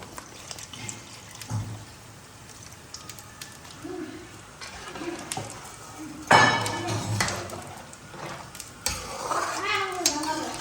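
A pan of fish curry simmering with coconut milk is stirred, giving soft scraping and a light bubbling sizzle with occasional clinks of utensil against the pan, interrupted by a louder clatter partway through.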